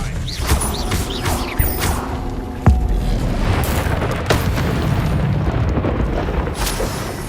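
In Hogwarts Legacy, the Confringo explosive spell sets off a dense barrage of booms and crackling blasts over a constant rumbling combat din, with one sharp hit standing out.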